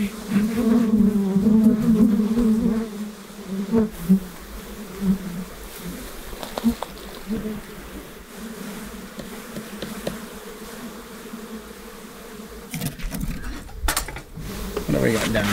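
Honeybees swarming over the brood nest of an opened hive make a dense, steady buzzing drone that fills the whole clip, with scattered clicks and a clatter of handling noise near the end.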